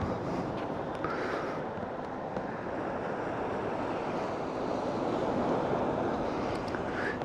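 Sea waves wash against the rock-lined shore of Maravanthe beach in Udupi, a continuous close, broad roar of surf with wind buffeting the microphone throughout and no talk.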